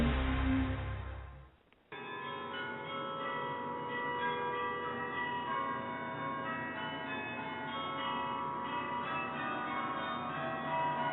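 Bells ring continuously in a dense, overlapping peal, faint and muffled, after a brief burst of other sound at the start.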